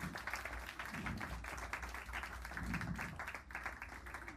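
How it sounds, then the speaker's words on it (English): Audience applause for the mentors at a young jazz composers concert, a steady dense patter of many hands throughout, fairly faint and distant, with no talking over it. "Big round of applause, please, for all of them."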